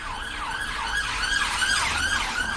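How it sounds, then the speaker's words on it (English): An ambulance siren wails in a steady rising-and-falling cycle over a continuous, fairly loud stretch, sounding moderately close with faint low traffic rumble beneath it. "Ambulance."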